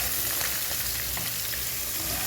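Onions fry in hot oil with a constant, even sizzle that holds at moderate loudness throughout, with faint crackles and no voices.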